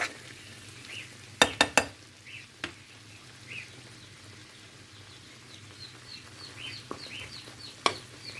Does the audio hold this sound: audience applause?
no